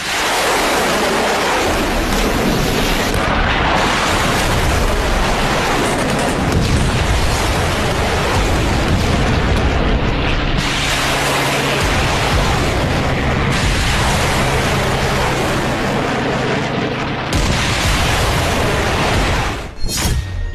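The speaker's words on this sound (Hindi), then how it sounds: "चीन की नौसेना के युद्धपोतों से मिसाइलों की बौछार निकली" Missile barrage fired from Chinese navy warships, a continuous loud roaring rush with rolling booms and surging blasts lasting throughout, ending in a sharp crack.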